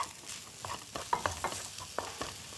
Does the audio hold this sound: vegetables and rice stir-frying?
yes